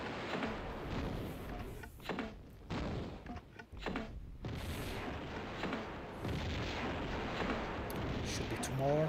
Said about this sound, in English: You're gonna draw your grenade launcher. You're gonna shoot him and kill him.